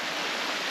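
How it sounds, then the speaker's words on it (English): A waterfall beside a mountain trail gives a steady, broadband rush of falling water that stays constant and fairly loud throughout the brief moment. "Okay, so this is a trail to a waterfall."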